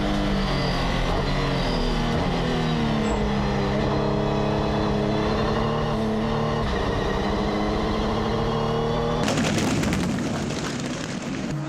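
Renault RS01 race car during an endurance race at Barcelona, its engine roaring loud and close from onboard, pitch rising and falling through gear changes, then a harsher burst of noise near the end.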